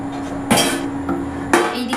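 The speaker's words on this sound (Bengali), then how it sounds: "এবার গ্রেটার দিয়ে গ্রেট করে নেব" Radish being grated by hand on a kitchen grater, two short broad rasping strokes about a second apart, close and fairly loud over a quiet room with a faint steady hum.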